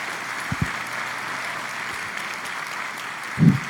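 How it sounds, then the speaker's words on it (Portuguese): A church congregation at a missions symposium keeps up a steady wash of applause, with a few sharper nearby thumps early on and a louder low bump near the end, no voices heard. "Vamos aplaudir ao Senhor."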